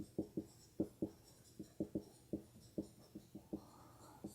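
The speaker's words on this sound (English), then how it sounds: "So let me write that down" Writing on a board during a calculus lesson on antiderivatives: a series of distinct close taps and short scratchy strokes in an irregular rhythm, alone with no talk.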